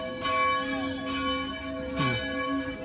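A church bell rings at a parish church decorated for Christmas, a single resonant toll with long humming overtones sustained throughout, followed by a second fainter strike, fairly near and steady.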